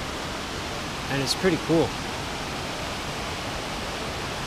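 Waterfalls at Plitvice Lakes National Park make a steady, broad rushing roar that fills the scene evenly, with a person briefly speaking over it.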